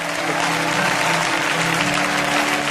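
A church congregation applauding during a Christian service, heard as a dense, steady burst of clapping from many hands, loud and continuous throughout.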